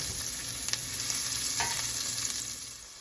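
Potatoes, onions and vegetables sizzle steadily in a pan while being stirred, a close hiss with a few scraping clinks of the utensil.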